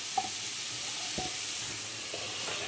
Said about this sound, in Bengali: এখানে মিক্স ফ্রাইড রাইসের ভেজিটেবিলগুলো ভাজা হয়ে গেছে প্রায়